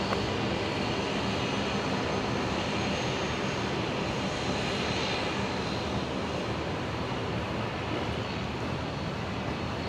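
A Virgin Australia jet departs Brisbane International Airport, a loud, steady engine roar filling the air continuously without any voices.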